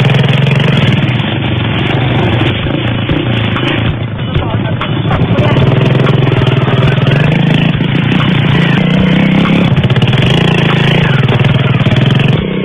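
A motorcycle engine runs steadily throughout a long ride over rural roads in Zamboanga del Norte, a loud, continuous mid-pitched drone with clattering and slight rises in revs, close to the rider and filling the whole stretch.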